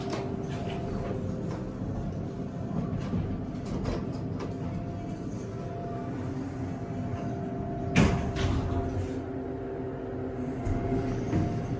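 The doors of a MontgomeryKone hydraulic elevator at a Nordstrom in a Columbia, Maryland mall slide under a low steady machine hum, with scattered clicks and a single firmer thud partway through.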